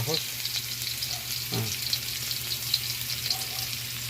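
Garlic fries in hot oil in a pan at the start of a vegetable dish cooked in coconut milk, with a steady close sizzle and crackle and a few stirring scrapes.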